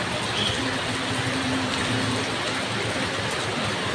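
Steady heavy rain with gusting wind as a typhoon approaches, a dense even wash of downpour filling the whole stretch close by, with no clear voices over it.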